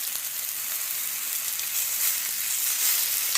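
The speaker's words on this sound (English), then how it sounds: "just continue to sear it until we get it all done" Beef tenderloin sears in oil in a hot cast iron pan, giving a steady, close sizzling hiss that swells slightly toward the end, with no voices.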